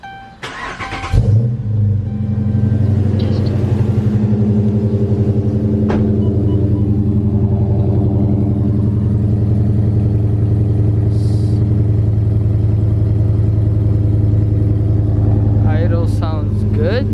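A 5.7 V8 Dodge Charger R/T fitted with a 6.1 SRT manifold cranks briefly, fires up with a loud catch, and then settles into a steady, deep, rumbling idle close by.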